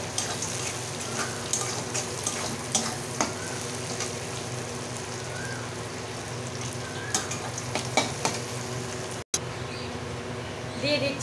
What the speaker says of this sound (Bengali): এই যে কিশমিশ দিয়ে দিচ্ছি, বাদাম কাজু সবগুলো একসঙ্গে দিয়ে ভেজে নেব।